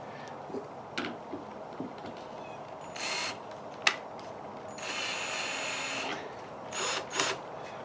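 A screw driven straight into wood with no pilot hole by a power driver, in several short whirring bursts and one longer sustained run, close up and loud, with brief pauses and clicks between them.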